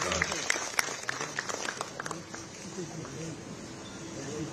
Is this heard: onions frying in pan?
no